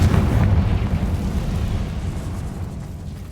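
A Confringo spell explodes in Hogwarts Legacy with a loud, deep, rumbling blast that dies away slowly over a few seconds.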